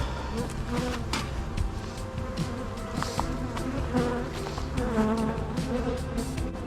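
Honeybees swarm around an opened hive during a feeding and inspection, a dense, continuous buzz of many wings close by with individual bees zipping past the ear, steady and unbroken throughout.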